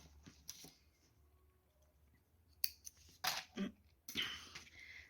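Scissors snip through crochet yarn in a few quick, close, crisp cuts separated by short pauses in a quiet room.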